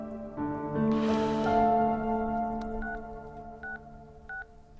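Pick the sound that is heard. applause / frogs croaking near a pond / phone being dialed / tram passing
phone being dialed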